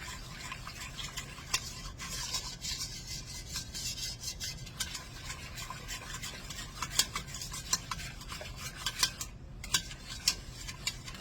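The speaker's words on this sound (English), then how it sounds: "Let's whisk this together." Flour and sugar are whisked together in a bowl for homemade banana pudding, a steady close scraping and stirring with light metallic ticks of the whisk against the bowl, continuing alone without talk.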